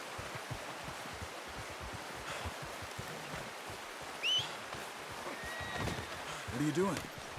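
A horse in the Red Dead Redemption 2 video game whinnies briefly twice over a steady rustling, outdoor background with soft hoof-like thuds, with a short vocal cry midway.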